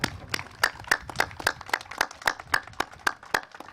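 Applause for singers at an outdoor Memorial Day cemetery service, a small crowd clapping in a loose steady rhythm at moderate distance, with no talk over it.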